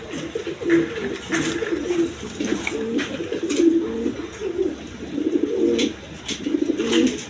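Pigeons at a breeder's loft, including breeding pairs with young, coo in repeated low rolling phrases throughout, fairly close and steady with no talking.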